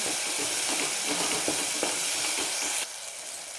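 Fresh masala for a fish curry being sautéed and stirred in a pan, a close, steady sizzle with scraping stirs throughout that drops slightly quieter near the end.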